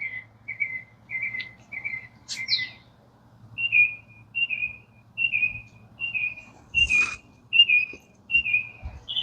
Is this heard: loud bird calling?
yes